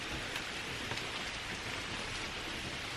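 Steady rain pours down around a backpacking trail shelter on the Laurel Highlands, a dense continuous hiss with scattered drips and patters, close and fairly loud, with no voices.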